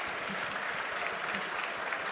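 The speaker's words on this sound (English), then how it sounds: "Can I have a round of applause for my fantastic panel," Steady applause from a conference audience at a Bitcoin mining sustainability panel, a dense even clatter of many hands clapping continuously with no talk over it.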